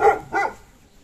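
A dog barks twice in quick succession, close and fairly loud, then goes quiet.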